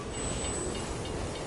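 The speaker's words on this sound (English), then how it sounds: "Come on now. We gotta keep this train on schedule." A train rolls along rails in the video game Borderlands 2, a steady, dense rumbling wash that holds at an even loudness for the whole moment, with no voices over it.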